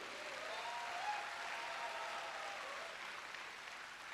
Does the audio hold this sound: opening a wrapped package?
no